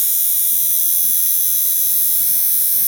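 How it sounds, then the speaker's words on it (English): An Andis Revite hair clipper runs steadily for about three seconds, a loud, harsh and rattly buzz held close up with no pauses and no talking. "It's got like some bulldozer type sound to it, and it really rattles in your hand."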